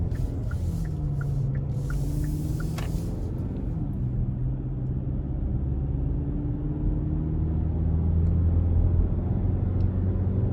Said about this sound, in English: take this 2022 Tucson out on the road for a quick test drive.